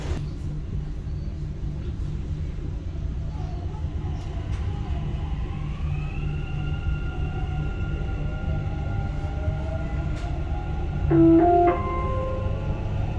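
A Dubai Metro Red Line train runs between stations with a steady low rumble and a rising electric whine from its motors, ending in a louder squealing screech.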